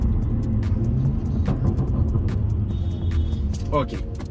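A car engine hums and rumbles steadily while driving toward a highway on-ramp, loud and close from inside the cabin, with road noise and a brief higher tone near the end.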